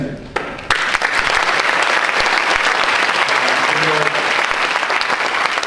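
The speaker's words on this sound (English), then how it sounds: "who I suspect will get an even larger applause tonight than perhaps another" After a brief quiet moment, a large evening audience bursts into loud, sustained applause welcoming a speaker, dense clapping holding steady to the end, with a few voices faintly mixed in.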